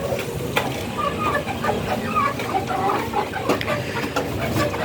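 Farm chickens clucking in a poultry house, scattered short calls over a steady barnyard background of shuffling and murmur, fairly close.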